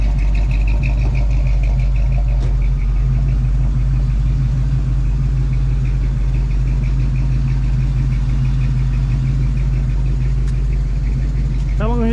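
1970 red Ford fastback with a 302 engine idling, a loud, steady low rumble close by that holds even throughout, with people talking over it.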